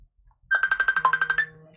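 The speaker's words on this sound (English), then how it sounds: "I cannot believe that this phone is ringing" A phone rings with a rapid electronic trill of about a dozen evenly pulsed tones lasting roughly a second, clear and fairly close in an otherwise quiet room, with no talking.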